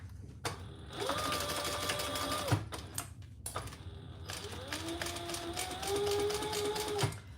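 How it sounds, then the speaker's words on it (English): A sewing machine stitches a seam in two bursts of steady whirring and clatter split by a short pause, close by and fairly quiet, with faint room noise between the runs. "let's sew this together"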